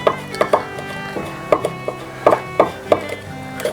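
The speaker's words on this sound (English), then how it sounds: "kind of hit that with my knife really fine" A knife chops cinnamon finely on a board beside a campfire, about a dozen sharp, close wooden knocks in uneven bursts.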